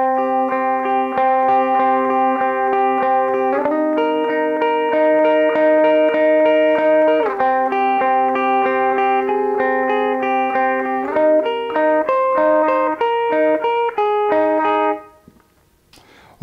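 An electric guitar with an effects unit plays the clean opening part of a song at a slow tempo, sustained ringing chords changing every few seconds, then stopping near the end.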